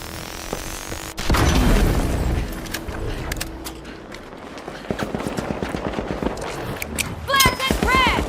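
Flashbang and frag grenade blasts in a video game: a loud, sudden boom about a second in, followed by a string of sharp gunfire-like cracks and bursts, with voices talking over the action.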